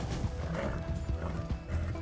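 Horse hooves clip-clopping at a hard run in the Red Dead Redemption 2 video game, with a whinny, steady and close, layered over dense in-game ambience.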